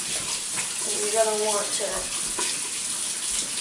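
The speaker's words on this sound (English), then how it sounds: "scrub under the water so that you can get it off while you're still mixing it around" A kitchen tap runs steadily while hands are scrubbed with soap under the stream, a constant close splashing rush with a person talking over it.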